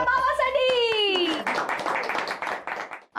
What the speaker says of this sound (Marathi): जोरदार टाळ्या बाबासाठी